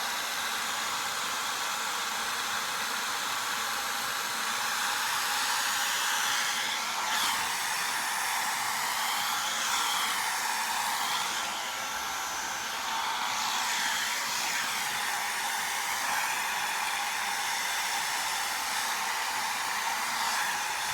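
A hair dryer blows close by while hair is blow-dried, a loud, steady whooshing roar that runs unbroken for about twenty seconds with only slight shifts as the airflow moves.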